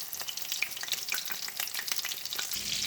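Filipino lumpia egg rolls fry in a pan with a dense, crackling sizzle that stays steady and close throughout, without any voices.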